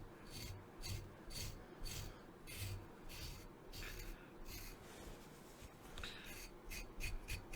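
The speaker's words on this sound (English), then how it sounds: "Just scrape away." Scraping psoriasis flakes off skin with coconut oil, a close, soft rasping rub repeated in quick, uneven strokes, faint and intimate throughout.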